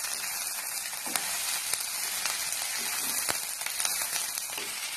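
Ivy gourd (kovakkai) stir-frying in a pan while being stirred, giving a steady close sizzle with occasional scraping clicks from the spoon, no voices.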